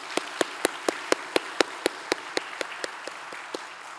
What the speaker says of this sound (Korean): 우리 특별히 그들을 격려하며 축복하며 큰 박수로 그분들을 세워드리면 좋겠습니다.